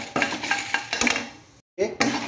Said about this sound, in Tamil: இதை லைட்டாக நம்ம சிம்மிலே வறுத்துடலாம்